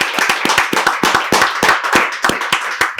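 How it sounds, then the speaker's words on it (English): A small audience claps for an interview guest at a business marketing event, with loud, close individual hand claps in a brisk, uneven rhythm. "Clap it up for him one more time"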